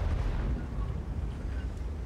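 A tank cannon fires in World of Tanks, a deep low boom that rolls into a sustained rumbling roar, loud and filling the whole stretch with no voices over it.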